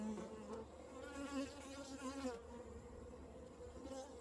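A thick, droning hum of honeybees swarming close by, rising and falling slightly in pitch, continuous with no talk.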